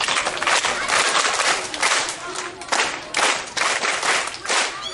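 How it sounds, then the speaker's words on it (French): Primary school pupils in Garoua clap together in rhythmic bursts, loud and close, the applause swelling and easing in waves over a few seconds. "Vraiment, ensemble, applaudissons-le, n'est-ce pas,"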